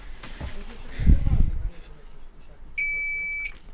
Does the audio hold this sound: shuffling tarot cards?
no